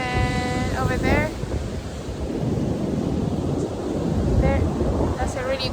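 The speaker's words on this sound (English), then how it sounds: "the waves just behind us. Very windy." Ocean waves and strong wind on Iceland's coast near a black sand beach, a continuous roar of surf with heavy wind buffeting the microphone, and brief tonal whistles scattered through.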